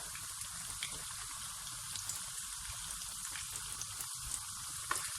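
Steady crackling sizzle of unbreaded chicken pieces frying in hot oil, close and continuous, with scattered pops throughout.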